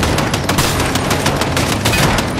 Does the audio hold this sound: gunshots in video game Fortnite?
yes